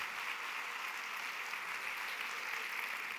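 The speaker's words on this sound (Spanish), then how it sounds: "Bien, damos un aplauso, por favor," Audience applause at an educational innovation conference session rolls on as a steady, fairly faint wash of many hands clapping together, sustained evenly throughout with no voices on top.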